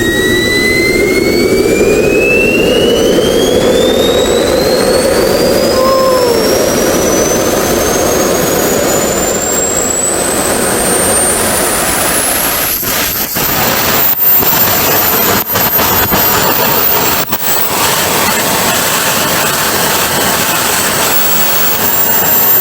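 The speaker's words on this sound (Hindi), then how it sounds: "अभी मैं आपको स्टार्ट करके दिखाने वाला हूँ ये जेट टर्बो जेट इंजन" A small turbojet engine built by young engineers in Karachi spools up with a rising whine that climbs steadily in pitch, then runs at a loud, roaring, sustained scream close by.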